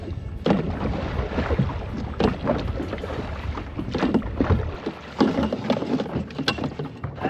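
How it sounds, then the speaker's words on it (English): Oars splash and knock as a small boat is rowed at sea, with rushing water and wind buffeting the microphone throughout. "I'm just gonna row out and find this outboard engine."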